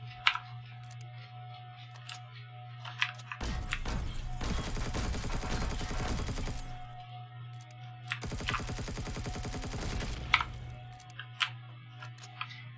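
Automatic weapon fire in the space survival game Empyrion, two sustained loud bursts of rapid shots, each lasting a few seconds, separated by quieter game ambience with a steady low hum and scattered clicks.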